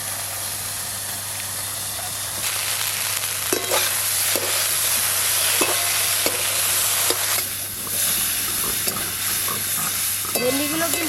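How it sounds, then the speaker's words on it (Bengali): Sliced okra frying in a pan with salt and turmeric gives a steady, dense sizzle, with the occasional scrape and clack of a spatula stirring it, close and continuous with no talk. "ভেন্ডিগুলো কিন্তু লবণ হলুদ দিয়ে বেশ ভালো করে ভাজা ভাজা হয়ে গেছে"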